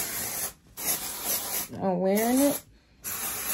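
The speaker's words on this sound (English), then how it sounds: "spray some dry shampoo in it so that it can look a little more lifelike and dry some of that oil up" Dry shampoo sprays onto hair in broad hissing bursts, several separate pumps with short gaps between them, close and loud, while someone talks briefly between sprays.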